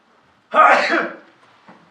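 A single sharp sneeze bursts out close by in a lecture hall before a conference talk, followed by faint trailing sounds.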